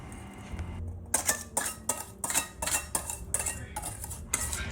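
Chocolate brownie batter is mixed in a bowl with close, rhythmic stirring strokes, about ten crisp scraping and clinking passes against the bowl after a quieter start.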